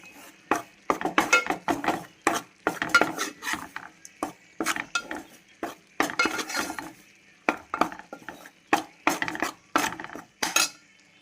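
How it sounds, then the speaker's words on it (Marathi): A spoon scrapes and clinks against a pan in steady, repeated strokes as gram flour is stirred and roasted, close and fairly loud. "झुणका आपण भाजून घेऊया चांगलं बेसनचं पीठ"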